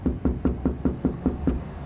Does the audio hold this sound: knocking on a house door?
yes